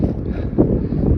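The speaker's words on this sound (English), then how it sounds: "I know it's kind of windy, and I apologize" Wind gusts near the top of a mountain climb on the Pacific Crest Trail, buffeting the microphone with a low, continuous rumble for about a second and no voices.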